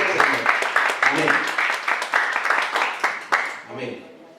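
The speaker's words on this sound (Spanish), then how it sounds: "Dele fuerte ese aplauso." A church congregation claps loudly in a quick, steady rhythm, many hands striking together in regular beats close by, before the clapping fades at the end.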